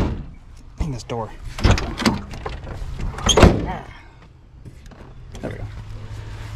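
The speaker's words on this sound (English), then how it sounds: "Bang this door." A door slams shut on a vehicle beside a Nissan 350z, one loud close bang standing out among a few lighter knocks and rattles, with someone talking around it.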